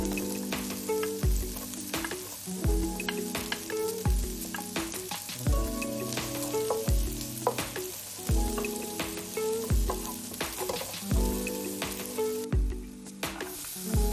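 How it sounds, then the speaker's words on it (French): Minced garlic and sliced onions sizzle steadily in melted butter in a frying pan, a continuous crackling fry with occasional louder pops and stirring clatter, close and alone without voices. "Commencez par y mettre l'ail haché et les oignons émincés."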